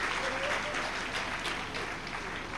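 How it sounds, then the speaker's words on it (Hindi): An audience at a religious discourse claps together in a steady, dense burst of applause, moderately loud and sustained with no voice over it. "अब बजाइए ताली"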